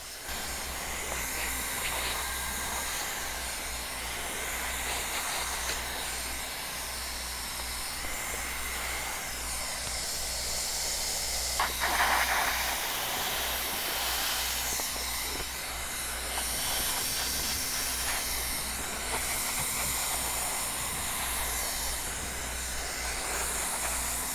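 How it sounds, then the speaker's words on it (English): Hot air welder sealing a pipe boot around its perimeter onto a pond liner, a steady continuous hiss of blown hot air that stays loud and even throughout with no voices. "we're going to finish welding around the perimeter"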